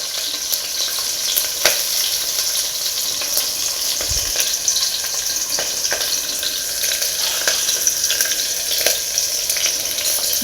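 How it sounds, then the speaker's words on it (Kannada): Green chilies fry in a pan with a steady, close sizzle and crackle, broken by a few sharper pops and clinks from stirring; no one speaks. "ಹಸಿರು ಮೆಣಸಿನ್ಕಾಯಿ ಸೇರಿಸ್ಕೊತಾ ಇದ್ದೀನಿ. ನೋಡ್ಬೋದು ಚೆನ್ನಾಗಿ ಫ್ರೈ ಆಗ್ತಾ"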